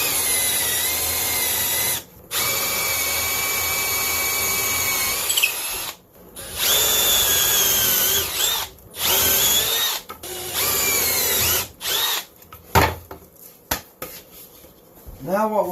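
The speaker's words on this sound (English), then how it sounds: "Now we just got to finish drilling the holes" A power drill runs in long loud whirring bursts separated by brief pauses, its pitch shifting as it bites into the wooden base of a fly tying station, ending in shorter stuttering runs.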